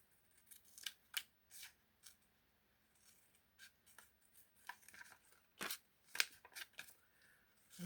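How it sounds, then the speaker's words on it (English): Scissors snip around paper shapes for a junk journal, with close, crisp cuts in irregular clusters and short pauses between them, and a few sharper snips near the end. "And then we can do the easy fussy cutting."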